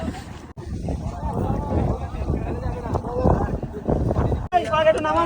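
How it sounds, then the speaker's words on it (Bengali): A speed boat carries a group of friends across the water near an island off Dubai. Its engine roars steadily, with wind buffeting the microphone, and people talk over the noise throughout. "এই স্পিড বোট করে আমরা আবার বোটে উঠবো"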